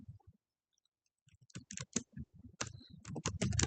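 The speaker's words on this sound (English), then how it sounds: "I'm going to type" Brisk typing on a computer keyboard, with close, crisp key clicks arriving in quick irregular bursts after a short quiet start and growing denser toward the end.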